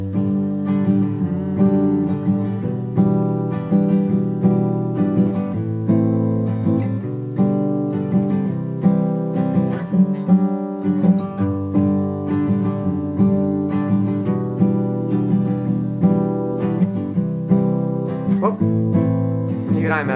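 An acoustic guitar strums chords in a steady, bouncy rhythm with alternating bass notes, close and full, with no talking over it.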